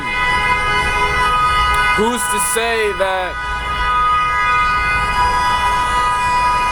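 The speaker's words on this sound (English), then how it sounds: "whoever's honking that is crazy" A vehicle horn honks outside in a few short bursts, with a longer blast of several seconds between them, under a person talking over steady background noise.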